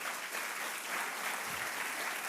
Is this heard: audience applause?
yes